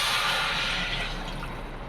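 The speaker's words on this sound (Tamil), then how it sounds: "இந்த தண்ணி பத்தாது, இன்னும் கொஞ்சம் ஊற்றிக்கிறோம்" More water poured from a pot into a cooking vessel of wheat rava khichdi with peas, carrots and beans, a steady close splashing gush that fades slightly over two seconds.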